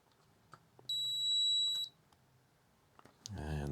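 A multimeter continuity test on a Commodore 64 circuit board sounds a single steady electronic beep lasting about one second, clear and close. Brief rustling follows, then a voice starts talking at the end.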